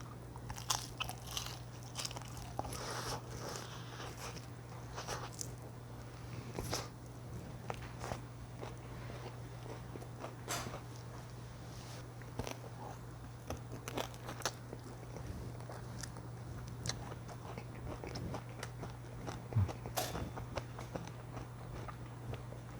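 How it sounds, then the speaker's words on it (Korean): Fried chicken wings, soy-sauce and spicy, are bitten and torn apart close up, with repeated crunchy bites and chewing over a low steady hum, no talking. "봉 한번 뜯어볼게요, 봉."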